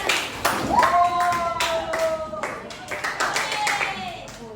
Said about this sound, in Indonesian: Kita apresiasi dulu ya, tepuk tangan.